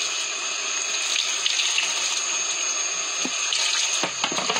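A tap runs steadily into a sink while cotton is washed by hand, a constant close stream of water with a few soft knocks and clatters toward the end.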